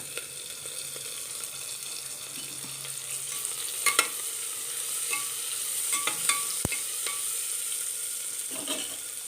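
Green chilies go into wilted onions frying in a pan, giving a steady soft sizzle with scattered stirring clinks and scrapes of a utensil against the pan.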